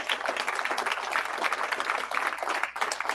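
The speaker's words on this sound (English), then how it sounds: "Can we please give them a round of applause?" Moderate applause from an audience at a live evening gathering for a prisoner support organisation, a continuous wash of clapping at middle distance that holds steady throughout.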